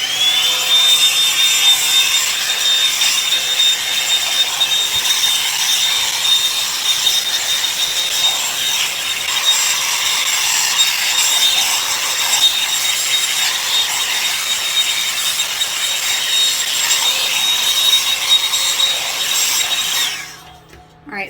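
A Revlon One hair dryer brush runs steadily while drying hair, a loud continuous airy whir with a thin high whine and brushing rustle throughout, cutting off abruptly near the end.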